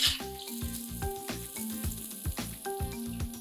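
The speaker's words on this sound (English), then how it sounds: "Now I want you to saute the onions till they are soft and translucent" Finely chopped onions sauté in a pan with a little ghee or oil, a close, continuous sizzle broken by regular clinks and scrapes of a stirring utensil, with no talk.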